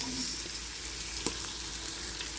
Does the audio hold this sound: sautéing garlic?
yes